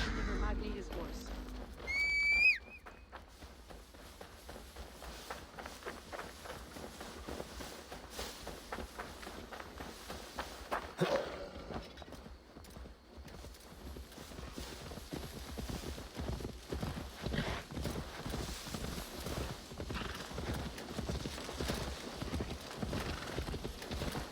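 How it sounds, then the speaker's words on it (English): In the video game Assassin's Creed Valhalla, a horse whinnies early on, then hooves clip-clop in a steady walking rhythm that quickens into a faster beat, moderately close. "Now deliver Magni his horse"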